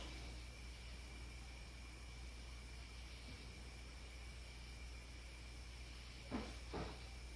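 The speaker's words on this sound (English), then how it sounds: "Can you make a knock for us?" Two quick knocks sound in an attic during a ghost hunt, faint and close together near the end, over a steady low hiss of background noise.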